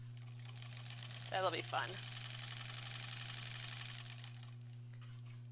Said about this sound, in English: I'm really just enjoying chilling here though, and sewing on this.